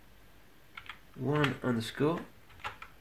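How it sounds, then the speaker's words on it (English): Keys clicking on a Sinclair QL computer keyboard, a few sparse taps before and after a short burst of speech in the middle. "So I'm going to type"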